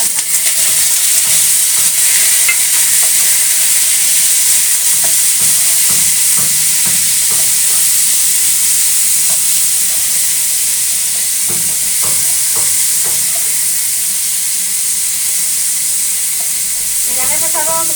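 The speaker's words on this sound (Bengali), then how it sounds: "সরষের তেল গরম হয়ে গেছে, আমি পাঁচফোড়ন দিয়ে দিলাম একটু। এবার এর মধ্যে আমি দিয়ে দেবো এই নুন হলুদ দেবো, পটলটা" Pointed gourd fries in hot mustard oil with five-spice seeds, salt and turmeric, giving a steady close sizzle throughout while a utensil scrapes and stirs in irregular bursts.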